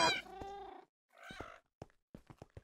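A kitten in Minecraft meows, a clear drawn-out cry followed by a shorter second meow and a few soft chirping sounds, close and alone with no talking.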